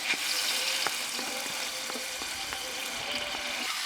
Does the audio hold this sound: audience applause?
no